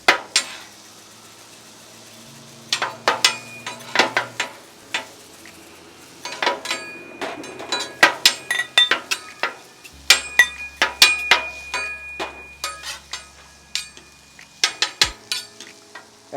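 A dense steel hibachi grill rings with sharp metallic clinks and scrapes as a spatula works over Wagyu steak searing on the flat top, the irregular taps coming close and crisp over a quiet sizzle.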